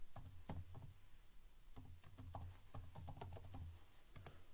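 Typing a command on a computer keyboard: steady runs of crisp, close key clicks in short bursts with brief pauses, heard alone over a low background hum.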